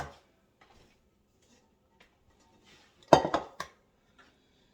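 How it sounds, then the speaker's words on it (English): A cooking pan is brought over and set down in a home kitchen with a brief clatter of metal and a few clinks, near and fairly loud, with silence before and after. "Let me bring over my pan."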